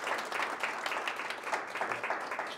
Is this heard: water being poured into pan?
no